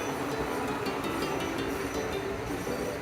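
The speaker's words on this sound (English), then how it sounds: "The train arrived." A local train on the Rumoi main line pulls into a station, heard as a continuous low rumble with a broadband rolling roar from inside. The noise is steady throughout, with no talk.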